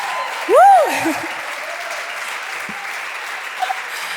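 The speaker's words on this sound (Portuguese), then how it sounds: "dê umas palmas a Jesus" Church congregation clapping during a sermon, a sustained wash of applause with a rising-and-falling whistle early on, steady and moderately close throughout.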